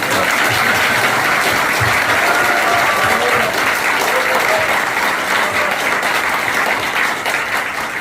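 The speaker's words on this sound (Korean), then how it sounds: "우리 박수 한번 써주십시오." Sustained, loud applause from a crowd at a Seoul political rally, dense clapping steady throughout with faint voices and cheers mixed in.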